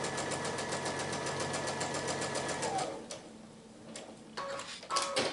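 A sewing machine stitches a quilt block in a steady rapid run for about three seconds, then stops, followed by a few short clicks and brief bursts of stitching, heard close with no talking.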